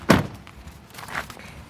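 A 2020 Chevy Silverado door shuts with a single solid slam near the start, followed by a few softer thumps and rustles.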